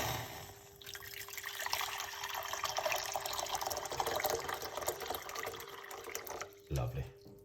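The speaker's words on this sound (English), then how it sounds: "So we got a medium-sized pot, and we're going to put some hot water." Hot water runs in a steady stream into a medium-sized pot for about six seconds, a continuous close splashing fill that stops abruptly near the end.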